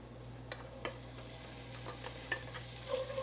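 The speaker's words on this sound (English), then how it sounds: "Now I'm adding in mushrooms that are left over in the refrigerator." Leftover mushrooms and onions sizzle softly in a pot, with a few scattered stirring scrapes over a steady low hum, quiet and close.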